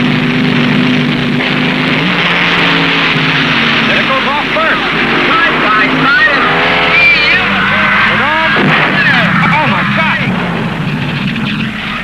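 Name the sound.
slingshot dragsters racing at NHRA Nationals drag strip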